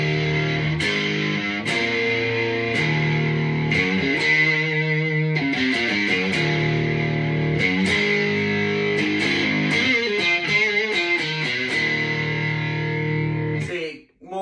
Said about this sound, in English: So you heard the guitar, now I'm gonna put the pedal on.